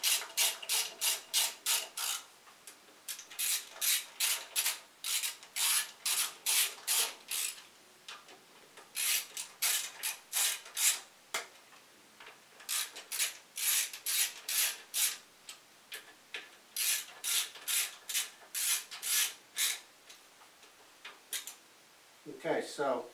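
Ratchet wrench tightening the aluminum bolts on a pump oil filter cover, heard as repeated bursts of quick, close clicking strokes separated by short pauses.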